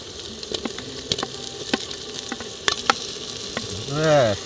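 Chopped tomato fries with ginger and garlic paste in a pan, a steady close sizzle broken by sharp stirring taps and scrapes, then a brief tonal squeal near the end.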